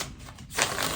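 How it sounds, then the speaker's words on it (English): A deck of tarot reading cards is briefly shuffled close by, giving a dense papery riffle that swells louder in its second half, with no talk. "while I'm doing this little shuffle"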